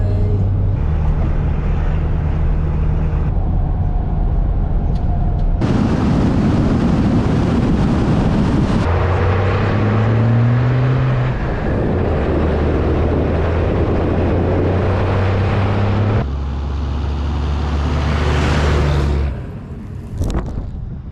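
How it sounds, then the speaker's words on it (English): Inside a truck carrying a camper and towing a trailer at night, a loud, steady road rumble and engine drone fill the cab, with low tones shifting as gears and speed change, then easing off near the end. "It's late night, but we're gonna get some hours of driving in"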